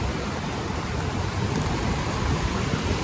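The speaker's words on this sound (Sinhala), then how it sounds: "වැස්ස නම් සුට්ටක් වැඩි" Heavy rain at an outdoor gem mining pit in Sri Lanka, pouring down as a dense, loud, continuous hiss with a low rumble underneath, steady from start to finish.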